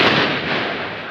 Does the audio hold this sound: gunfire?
yes